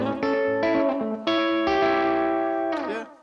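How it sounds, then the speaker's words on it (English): Rockabilly fingerpicked guitar plays a short sequence of sustained chords with sliding notes into them, ringing clearly with some effects and reverb, alone with no talking. "you can sort of hear me doing the slides as well into it"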